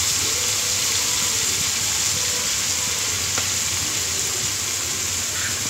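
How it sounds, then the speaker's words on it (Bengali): Turmeric powder goes into garlic frying in oil for an eggplant and hilsa curry, and the pan gives a steady, loud, close sizzle throughout with no pauses and no talking. "আমি হলুদের গুঁড়ো দিচ্ছি"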